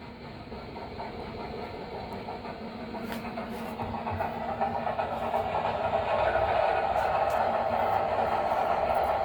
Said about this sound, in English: let me go ahead and get the train going